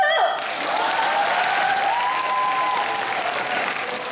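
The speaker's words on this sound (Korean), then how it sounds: "박수!" Full audience applause at a student speech contest, a dense, loud wash of clapping from a large crowd, sustained throughout with a faint tonal hum running underneath.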